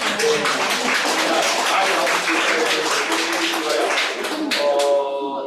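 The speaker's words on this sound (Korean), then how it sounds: "이렇게 박수 한번 주겠습니다" A room full of people in a church applauding, dense and steady clapping that tapers off near the end as a voice briefly emerges.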